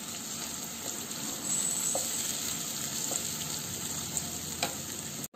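Tomatoes and a ginger, garlic and green chilli paste sizzle steadily in a hot pan, a continuous close frying hiss with a few faint clinks and stirring sounds, no talking.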